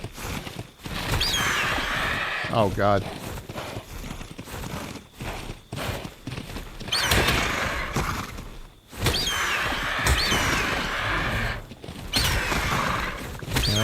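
A horse in Ark Survival Ascended gallops with busy clip-clopping hooves and lets out several high neighs and whinnies, loud and close, while a man briefly mutters.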